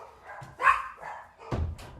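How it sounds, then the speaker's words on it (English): Dogs bark indoors, a few short loud barks and yips spread over two seconds, fairly close. "excuse the dogs."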